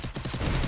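A quick burst of rapid automatic gunfire in a multiplayer shooting video game, loud and close, its shots running together in a dense rattle for under a second.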